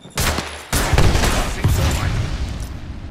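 Rapid video-game gunfire crackles in dense bursts as a frag grenade is thrown, a loud opening volley followed by sustained popping shots and booms that stay close and busy throughout.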